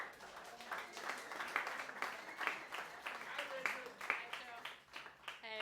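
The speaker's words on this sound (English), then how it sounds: "And so Rachel, warm round of applause for Rachel Bishop." An audience at a campaign talk on the cost of incarceration gives a faint, distant round of applause, with scattered clapping rising and falling in soft waves.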